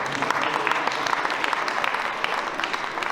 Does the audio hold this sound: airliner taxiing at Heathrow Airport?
no